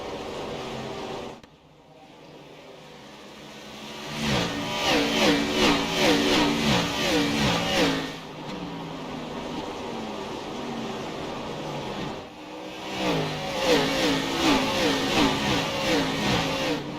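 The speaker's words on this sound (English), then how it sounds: "let's watch these cars fly by here tonight at Nashville" Race cars of the Xfinity Series at Nashville roar past in loud waves, engines swelling and fading as packs pass, with a brief lull between passes.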